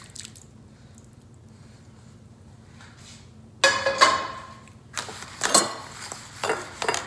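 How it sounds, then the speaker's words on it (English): Tomato sauce poured over stuffed cabbage rolls in a baking dish, heard as wet squishing splashes and soft drips that start abruptly partway through, with faint clinks of a pan, close and moderately loud after a quiet lead-in. "We're gonna take our sauce. We're just gonna pour it"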